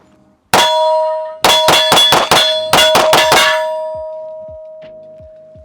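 Rapid pistol shots from a Sig P365XL ring out, with one shot followed by two fast strings of several shots and a long ringing metallic decay after each.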